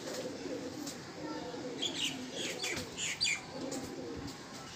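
Pigeon at close range giving soft coos and bursts of flapping wings while being handled, fairly faint, with someone speaking quietly at times.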